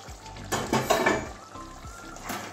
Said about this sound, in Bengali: এবারে আবারও ঢাকনাটা খুলছি।